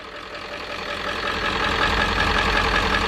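Ford 7.3 diesel engine in a van running steadily just after starting on a replaced starter, a dense, even rumble with a knocking edge that grows slightly louder and holds close by, no voices.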